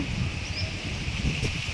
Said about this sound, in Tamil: இவ்வளோ காற்று இல்லைங்க, செம்ம காற்று.